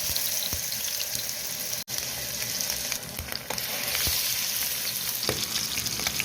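Fish fries in hot oil, a loud, dense, continuous crackling sizzle close up, with a few faint clicks and a brief dropout partway through, no voices.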